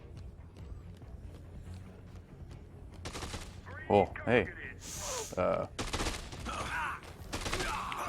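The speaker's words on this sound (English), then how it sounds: "Gunfire." Gunfire in the Dead Rising 2 video game, several short bursts and shots of varying loudness from close by, mixed with game sounds while players talk over it.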